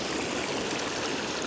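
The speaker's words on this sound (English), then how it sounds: "lots of water movement" A stream flows and bubbles over rocks at sunrise, a steady broadband rush of water close by, continuous and fairly loud with no voices.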